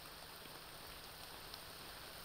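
Rain in the survival video game The Forest, a faint, steady hiss of falling rain with soft patter and no voices.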